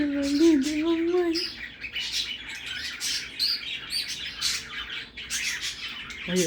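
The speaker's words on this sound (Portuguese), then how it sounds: "Olha, cantando igualzinho periquito." A cockatiel chirps and warbles nonstop, with squawks and bird calls that sound like parakeet song, close by and lively. A brief whistled tone comes near the start.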